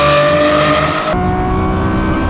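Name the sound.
Lamborghini Revuelto engine accelerating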